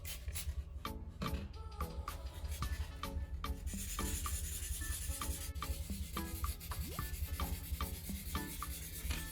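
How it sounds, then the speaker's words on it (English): Repaired plastic is wet-sanded by hand with P800 sandpaper, a quiet, close rhythmic rubbing of repeated short strokes, faint and alone. "So I switch to P800 and wet sand the entire repaired area."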